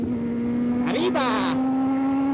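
Kawasaki Z900SE 2025 motorcycle engine idling steadily, then a quick blipped rev with a rising and falling pitch sweep around the middle, settling back to a steady hum; voices are heard over it.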